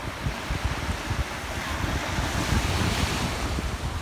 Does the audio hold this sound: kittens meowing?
no